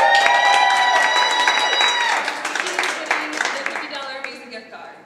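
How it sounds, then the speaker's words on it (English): A crowd claps and cheers for a poetry slam winner, loud and dense at first with whoops rising above the clapping, then thinning into scattered claps toward the end. "So a big round of applause for her."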